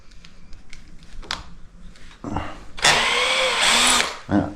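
A power drill whirs in short bursts while being pulled out of a wooden architrave, then runs in a longer high-pitched spin that winds down, with some faint knocking around it.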